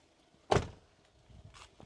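A Daihatsu Terios front door is opened, giving one sharp close-up latch clack followed by faint softer clicks and rustles in an otherwise quiet space.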